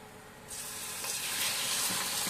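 Chicken liver hitting a hot pan with garlic for adobo, bursting into a loud, steady sizzle after a quiet half-second and holding bright and close to the end.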